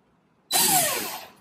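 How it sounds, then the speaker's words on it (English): Power drill pre-drilling a small hole in hard wood, starting abruptly with a loud high whine that holds steady for about a second, then cutting off. "I'm gonna pre-drill a little hole."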